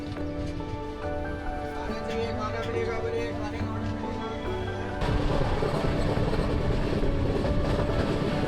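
The 12325 Nangal Dam Express rumbles along the tracks with a steady rolling clatter, growing louder and rougher partway through as the noise thickens.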